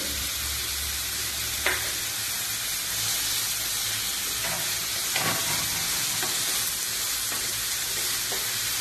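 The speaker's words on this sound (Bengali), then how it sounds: "মাংসটার মধ্যে দিয়ে দেবো, সব এবার ভাজবো।" Chicken momo filling of minced meat with black pepper frying in a pan, giving a loud, continuous close sizzle and hiss with occasional scraping stirs and no talk.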